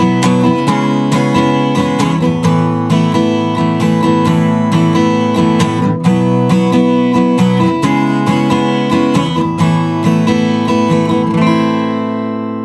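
Steady chord strumming on an acoustic guitar playing the bridge of a song, full and ringing, played alone with a regular rhythm and a final chord left to fade.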